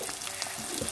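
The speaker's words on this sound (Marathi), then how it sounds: "रवा तुपात छान परतून घ्यायचा आहे." Semolina (rava) roasting in ghee in a pan, a soft, steady sizzle and faint crackle with light scraping of stirring, quiet and close, with no voices.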